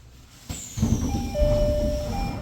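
A train on the Hakone Tozan mountain railway, with its dual narrow and standard gauge track, starts rumbling close by, its low running noise swelling as thin, sustained wheel squeals ring over it.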